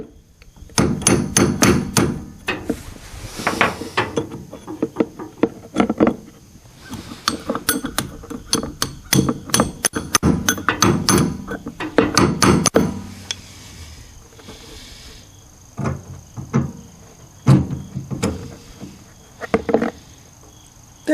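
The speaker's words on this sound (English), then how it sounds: "probably have to get a punch to punch the bolt out" Sharp metal hammer strikes on a punch, driving a bolt out of a brush cutter gearbox, landing in fast irregular bursts of clinking blows with short pauses between the volleys, loud and close.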